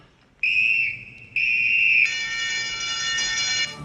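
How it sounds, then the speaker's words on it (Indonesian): Shrill emergency alarm in a prison from the film Escape from Alcatraz, with two loud whistle-like tones followed by a harsher, continuous tone. "Alarm darurat pun dibunyikan di seluruh penjuru."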